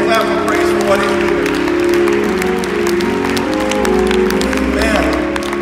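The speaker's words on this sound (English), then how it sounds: "Let's give the Lord a hand clap of praise for what He's doing." Hand claps from a church congregation giving praise ring out over sustained music with strong tones. The sharp clapping stays steady and loud throughout, woven through the musical backing.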